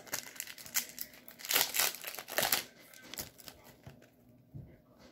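One Piece trading card packs are torn open by hand, with bursts of close plastic wrapper crinkling and crackling clustered near the start, then a few softer rustles and taps.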